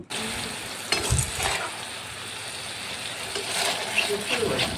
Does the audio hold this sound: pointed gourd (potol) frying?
yes